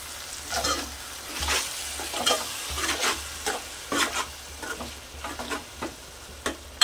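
Brinjal and tomato curry being stirred in a pan, with a steady run of scraping spoon strokes over a soft sizzle, close and moderately loud with no voices.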